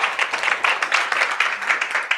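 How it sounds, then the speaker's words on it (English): Audience applause after an international tax reform panel discussion, a dense patter of many hands clapping steadily and evenly, moderately close, with no voices over it. "I think they deserve a round of applause for this discussion"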